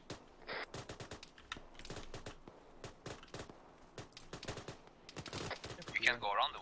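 Rapid bursts of gunfire from the Arma 3 combat game crack through the whole stretch, with dense volleys and sharp isolated shots, while players talk over radio between the bursts.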